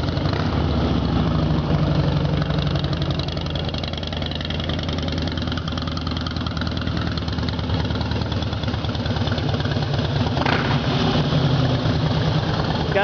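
A 2003 Harley-Davidson Fat Boy with D&D aftermarket exhaust idles steadily and loudly close by, a deep, rumbling engine with a throaty, uneven lope and no voices.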